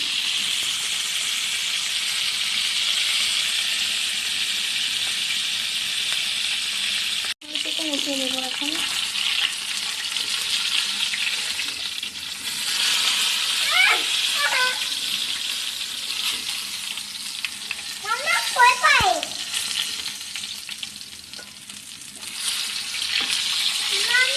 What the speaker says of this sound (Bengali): চিকেন সবগুলো ভেজে নিই চলো অবশ্যই হাই হিটে দিয়ে ভাজবেন